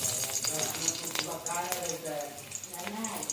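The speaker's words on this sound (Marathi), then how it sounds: "तेल गरम झालेले आहे आता यात आपण लसूण टाकणार आहोत" Garlic sizzling in hot oil for a spiced yam (suran) vegetable dish, a steady crackling fry heard close by with a voice talking over it.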